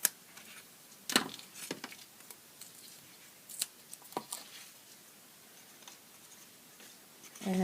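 Snips cutting material on a small berry basket, several sharp, close clicks and snaps spaced irregularly over quiet room tone.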